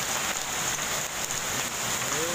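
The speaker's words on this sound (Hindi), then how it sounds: "घर के अंदर तक ओले आ रहे हैं" Heavy hail falling in Delhi, a dense, steady hiss and patter of stones striking surfaces without a break, loud and close, with faint voices in the background.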